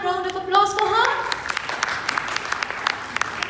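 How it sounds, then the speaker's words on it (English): Audience applause at a Dubai panel and award event, a steady crowd clapping that starts over a brief voice and continues densely with sharp individual claps standing out. "Can we have a loud round of applause for her?"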